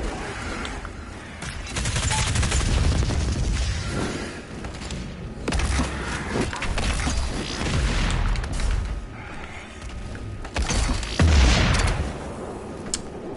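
Heavy gunfire and explosive booms from the shooter Doom Eternal, loud repeated bursts and thuds rolling across the scene with short lulls between volleys.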